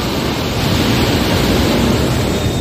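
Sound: rushing water flowing in a canal

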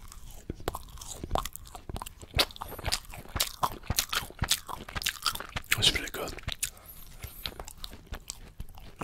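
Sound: crunchy cookie being bitten and chewed

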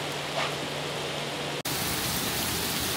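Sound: rain falling in Japan

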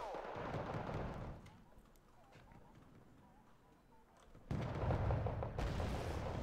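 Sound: machine gun fire from M113 vehicles in Wargame Red Dragon video game

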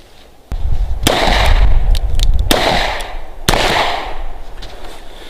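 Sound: revolver gunshot

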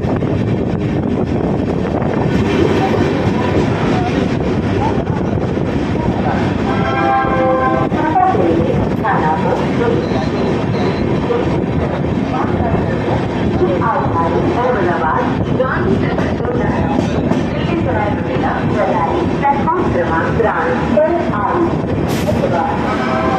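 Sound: train arriving at Anand Junction station

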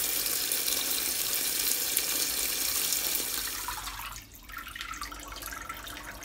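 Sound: washing wild blackberries in water at the sink

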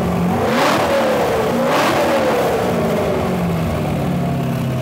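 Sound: car engine revving up RPM

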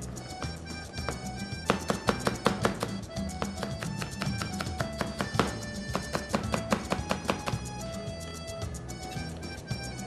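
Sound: finely chopping green onion with a knife

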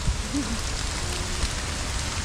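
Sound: rain falling at an amusement park

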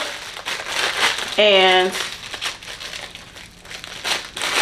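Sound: plastic bag being handled, crinkling

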